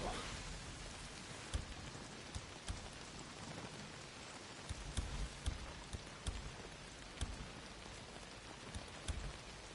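Heavy in-game rain pours steadily as a dense, even hiss of drops, with scattered sharper spatters and faint low rumbles throughout.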